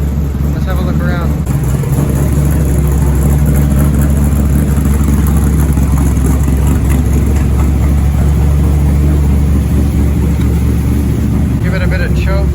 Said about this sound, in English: I like to start them up, get them warmed up.